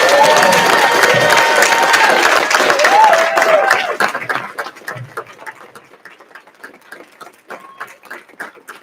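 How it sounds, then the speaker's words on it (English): Loud audience applause and cheering greet a newly introduced Port Commission President at a reception, dense clapping for about four seconds before thinning into scattered claps that fade away. "give a big round of applause for your new Port Commission President, Hamdi."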